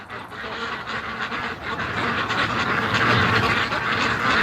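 Muscovy ducks call in a low, breathy chorus of soft quacks and hisses, close by, with continuous background noise and light rain beginning.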